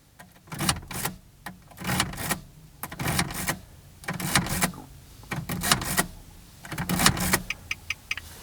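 Key slid in and out of a Nissan Xterra ignition cylinder again and again, a run of close, crisp metallic clicks and scrapes arriving in regular bursts, with no talking.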